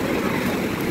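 Sea waves wash in at Puri beach, heard as a steady, loud, broad roar of surf that barely changes over a brief moment.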